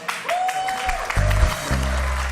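Brief burst of audience clapping for a guest singer at a stage event, mixed with a host's voice and some low thumps.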